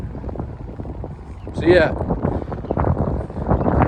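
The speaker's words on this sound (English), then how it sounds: "Ooh, it's windy." Wind gusting outdoors around the side of an abandoned shopping mall, a steady broadband rumble buffeting the microphone throughout while someone talks over it.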